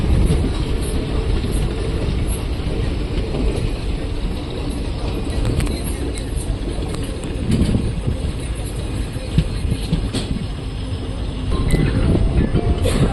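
A train runs along a railway track with a steady, loud rumble and rattle that continues without a break for over ten seconds, close by.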